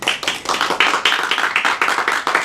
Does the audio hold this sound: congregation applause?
yes